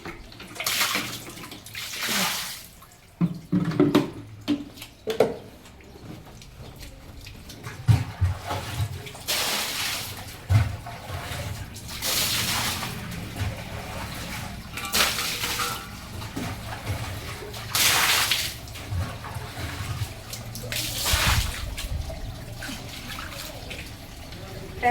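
Water running and splashing in a home bathroom during washing, coming in repeated bursts of pouring and gushing with drips between, close by, while people talk intermittently.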